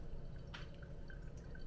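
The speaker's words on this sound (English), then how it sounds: "we're gonna let that fully drain out all the way through" Faint water drips through Kenyan Murang'a AA coffee grounds in a Hario V60 pour-over, a few soft isolated drops over a quiet background hiss.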